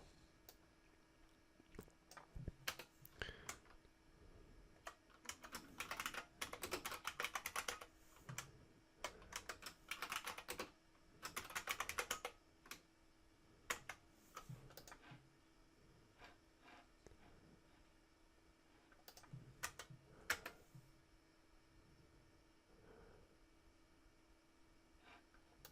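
Code is typed on a computer keyboard in quiet, uneven bursts of rapid close key clicks separated by pauses, with no talking.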